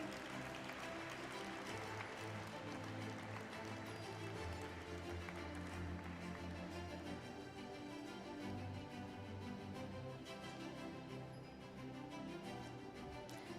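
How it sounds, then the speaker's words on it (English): Sustained audience applause fills the hall at the stock exchange listing ceremony of Billionbrains Garage Ventures Limited, a dense, steady wash of clapping that runs the whole stretch at even loudness, with low tonal sounds underneath. "Keep the applause going."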